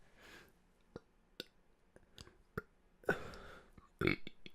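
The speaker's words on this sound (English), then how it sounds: "I ruined it with like the worst burp ever" A loud, drawn-out burp near the end, preceded by a short rougher burst and scattered small clicks and mouth noises, close to the microphone.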